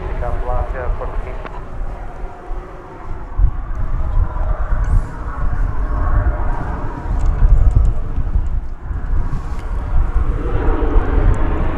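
Alaska Airlines airliner departing DFW Airport, its engine roar a steady broad rumble held throughout, with a person talking over it.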